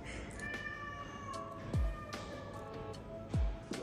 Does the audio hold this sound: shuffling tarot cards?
no